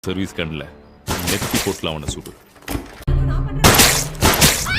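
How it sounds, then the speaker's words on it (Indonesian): Two sharp gunshots crack out in a tense film scene, landing around a second apart amid loud dialogue and a dramatic score. "terdengar suara tembakan sebanyak 2 kali"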